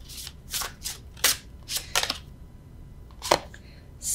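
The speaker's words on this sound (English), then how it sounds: "Normally I riffle shuffle, but I don't feel like it." A deck of tarot cards is shuffled by hand without riffling, giving several short, crisp papery bursts close to the microphone, separated by brief pauses, with no talking.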